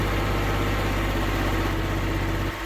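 A John Deere 5036D tractor engine runs steadily at around 2000 RPM, a loud, even diesel drone with a constant low throb, close up, dropping slightly in tone near the end.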